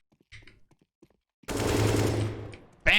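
A loud, rapid burst of automatic gunfire in a first-person shooter video game lasts just over a second, followed by another sharp shot, after a stretch of quiet clicks.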